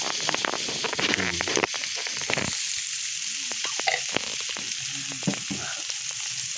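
Baguio beans and egg fry in a little oil in a home kitchen, a loud continuous sizzle with sharp crackles and occasional stirring scrapes, and no voices.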